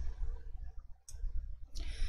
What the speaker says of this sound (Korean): 확인을 클릭.